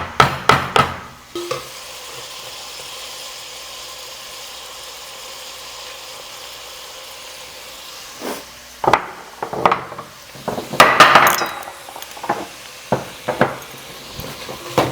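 Onions and masala being stirred in a pan, a low steady background hum under a few sharp scrapes at first, then a run of irregular spoon-against-pan scrapes and knocks near the end, with no talk.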